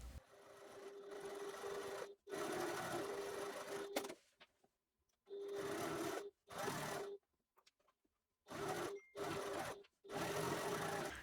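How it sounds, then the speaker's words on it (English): A sewing machine top stitching a fabric panel for a bottle sling runs in several short bursts of steady whirring stitching, separated by brief pauses, close and fairly quiet. "then I'm going to top stitch along here"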